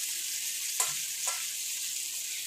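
Tuna pieces hitting hot oil in a pan give two sharp sizzling bursts over a steady, close frying hiss, with no talking.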